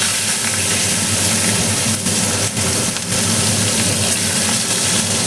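Sliced onion sizzles in a hot kadai with turmeric and nigella seeds, a steady hissing fry that runs loud and unbroken for the whole stretch, with no talking.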